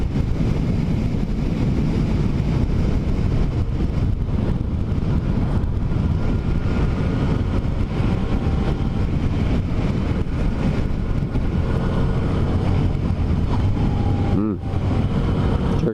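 Yamaha XSR900 motorcycle riding at speed with steady engine drone and heavy wind rush, a gear change and brief dip near the end, a rider talking over it throughout.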